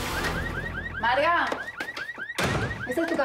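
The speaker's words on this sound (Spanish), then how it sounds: "Alarma de porquería me tiene harto." A pickup truck's car alarm blares nearby in a fast, repeating series of rising electronic whoops and chirps that shift pattern partway through, loud and alone.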